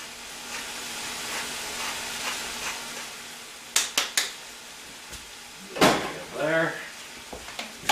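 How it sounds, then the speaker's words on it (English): Corn fries in a pan on a wood-burning cook stove, a soft steady sizzle and hiss close by, interrupted by a few sharp clinks and knocks and a short spoken remark near the end. "And the corn is frying nicely over there."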